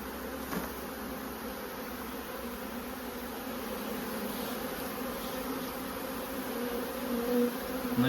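A honeybee swarm buzzes at an apiary during swarming: a dense, steady, continuous drone of many bees, close and loud, with no talking.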